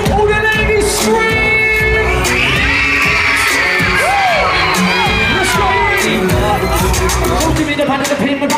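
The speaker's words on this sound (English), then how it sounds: "All the ladies scream." Loud crowd at a live rap show, with women screaming and whooping in a dense, sustained roar under music and an MC's voice, continuous throughout.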